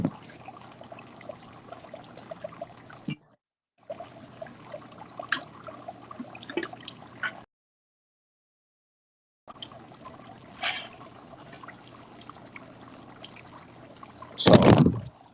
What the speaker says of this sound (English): that's just the water, the water from the fountain kind of thing